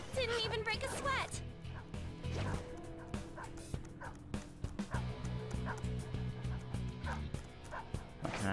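Dog barking in the Persona 5 Royal video game, a few short yips and bow-wow barks near the start over busy game music and sound effects, with speech mixed in.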